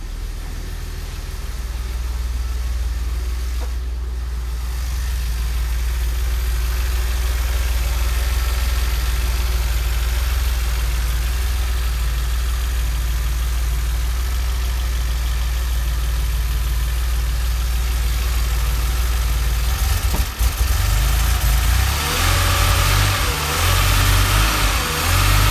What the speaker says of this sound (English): Rev it up when it's cold.